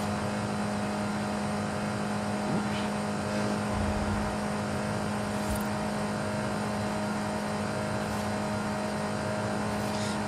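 Alfa Romeo 4C engine held at top speed in a racing video game, a steady loud drone with a constant hum and little change in pitch, running alone throughout.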